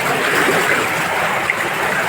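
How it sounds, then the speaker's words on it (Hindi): A rushing stream flows under a bridge during rain, a steady, loud broadband roar of water close by with no breaks. "देखिए कितना पानी चल रहा है दोस्तों"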